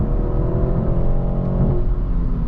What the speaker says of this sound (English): This is a 2-liter turbocharged engine, 255 horsepower, 295 pound-feet of torque. And let's just floor it.